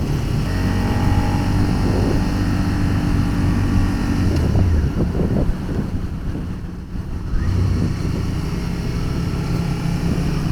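Constant engine drone and heavy wind rumble from a moving Suzuki SV 650 motorcycle on the road, loud and steady, briefly dipping midway before returning.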